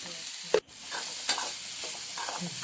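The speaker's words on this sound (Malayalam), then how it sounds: "എല്ലാം ചേർത്ത് നന്നായിട്ട് ഇളക്കി നന്നായിട്ട് ഇളക്കി യോജിപ്പിച്ച് കുറച്ച് പുളിവെള്ളം കൂടെ ചേർത്ത് നമുക്ക് വറവ് ഉണ്ടാക്കാം" A bitter gourd stir-fry sizzles in a pan while it is stirred, with a sharp scrape or knock early on and a steady, soft frying hiss throughout, close by with no talk.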